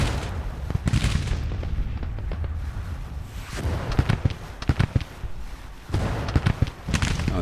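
Civil War battle gunfire in Grand Tactician, a dense stream of musket volleys and booming cannon shots crackling nearby and in the distance, irregular and sustained throughout.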